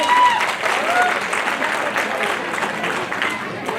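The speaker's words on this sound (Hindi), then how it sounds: "जोरदार तालियां।" Loud, sustained applause from a large seated audience at a speech event, a dense wash of clapping filling the whole stretch, with a faint voice briefly over it at the start.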